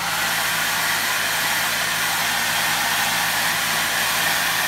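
A hair dryer blows steadily on fresh paint on an old swimbait, giving a loud, constant rushing whir with a low motor hum and no pauses.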